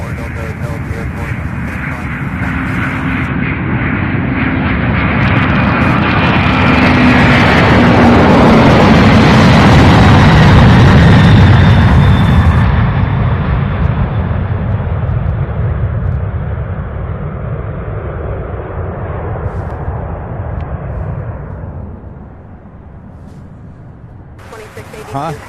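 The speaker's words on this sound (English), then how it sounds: "I see another MD-11" Loud jet engine roar from UPS MD-11 heavy freighters at Louisville International Airport, swelling to a broad peak mid-clip then easing off into steady distant rumble; a voice speaks over the noise.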